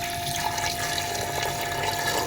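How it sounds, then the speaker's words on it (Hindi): Glasses of water pour into a cooking pot for beef yakhni pulao, a steady, close rushing splash running unbroken throughout with no talking. "3 गिलास इस तरह से हमने पानी ऐड कर दिए।"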